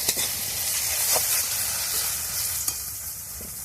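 Masala sizzles in hot oil for a vegetarian brinjal dish, a steady bright frying hiss with occasional soft stirring scrapes, close and continuous, with no voices.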